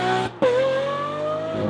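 Lamborghini Aventador SVJ Coupe with a Gintani exhaust, heard close and loud: a sharp engine note cuts off for an instant, then a rising high-pitched rev holds and climbs steadily with no talking.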